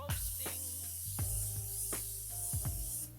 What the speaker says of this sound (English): Alright, then I like to spray my face.